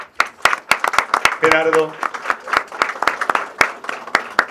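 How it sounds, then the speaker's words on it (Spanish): Scattered applause from an audience honoring a screenwriter at a film presentation, uneven claps under a brief spoken name and some talk in Spanish, close and fairly loud. "Un aplauso para el guionista."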